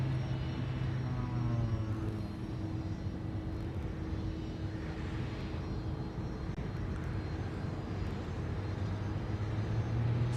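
A small aircraft passes close overhead at Honolulu airport, a steady loud engine drone that holds throughout with no talking.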